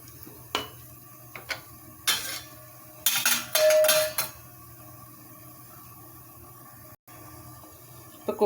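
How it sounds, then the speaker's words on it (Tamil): A metal spoon scrapes and clanks against a pressure cooker while stirring chickpea curry with salt and water, several short irregular metallic knocks and a brief scraping flurry, close and clear. "இப்போ நல்லா கலந்து விட்டுக்கலாம்."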